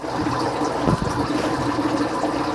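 Moving water in a crayfish aquarium setup with azolla and water lettuce, a steady close trickle and bubbling flow running throughout with one brief louder gurgle.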